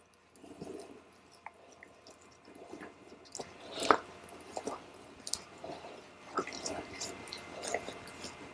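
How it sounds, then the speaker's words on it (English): Wet plaster of Paris on a short arm wrist cast being massaged with water, heard as soft, close, irregular squishes and drips that grow busier partway through. "you put it on, and you massage the water in to make sure that you don't see any holes"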